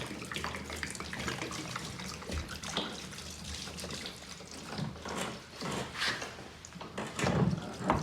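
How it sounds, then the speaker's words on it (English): Gasoline drains from a tipped power equipment tank, such as a pressure washer's, into a catch can, giving an irregular splashing, gurgling trickle of liquid at close range with faint clinks and no talking. "turn it over on the side, and let the gasoline come out"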